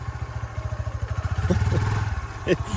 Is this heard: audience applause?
no